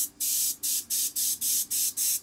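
An airbrush sprays blue paint mixed with black in solvent, releasing seven short, even bursts of bright, airy hiss in a steady rhythm, close and loud, with no talking.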